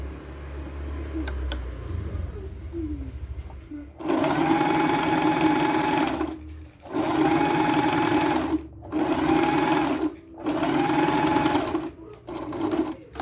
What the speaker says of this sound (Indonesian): lalu kita berbelok menjahit bagian yang panjangnya ya